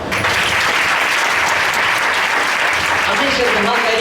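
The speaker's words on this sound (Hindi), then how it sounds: "आज जोर से यीशु मसीह के लिए ताली बजाओ।" A congregation at a Hindi Christian service bursts into loud, dense applause for Jesus Christ, continuous clapping lasting about four seconds, with a voice faintly emerging near the end.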